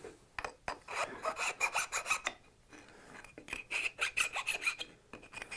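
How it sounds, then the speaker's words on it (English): A hand file rasps back and forth across the faces of a hand-cut wooden sunrise dovetail joint, deburring the wood in quick, steady strokes with brief pauses between bursts, close and clear with no talking. "I'm going to come into the file, smooth out those faces."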